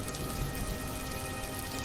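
Steady rain falls in a continuous, even wash of dense hiss with faint scattered drop patter, unbroken and without voices, set on a cold rainy day.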